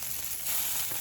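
Salmon fillet sears in a hot pan, giving a steady, close hiss of sizzling oil that swells slightly louder halfway through and runs unbroken with no voices.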